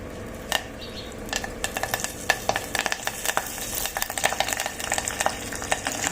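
Cumin seeds and curry leaves crackle and sizzle in oil in a pan, with frequent sharp pops and spoon clatter against the metal, close and fairly loud with no talking.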